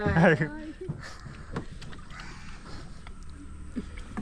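A traditional wooden country boat moves through mangrove backwaters at Munroe Island in Kollam, with soft, continuous water and hull sounds and faint creaks nearby. A short burst of voice comes at the start.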